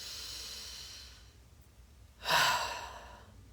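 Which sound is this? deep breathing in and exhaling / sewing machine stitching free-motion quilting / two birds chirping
deep breathing in and exhaling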